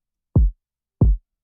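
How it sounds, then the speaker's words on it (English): Kick drum sample from the Cymatics Eternity kit, struck twice at an even interval: each hit is a punchy, deep thump with a quick decay, separated by silence. "Then I got this kick from the Cymatics Eternity kit,"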